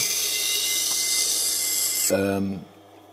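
Steady high, hissing scraping of a kitchen knife stroked across a whetstone, continuous for about two seconds, then a short low ringing hum as it stops.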